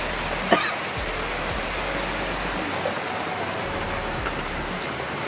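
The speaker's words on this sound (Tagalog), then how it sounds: "Umuulan na naman." Steady rain falls outdoors as a constant soft hiss, with an occasional faint cough or thump and no clear talk over it.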